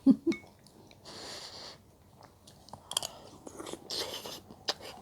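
A meatball from pork, chicken and mushroom sukiyaki is chewed close to the mic: an initial bite, then soft wet mastication with light crunches and breaths, with no speech.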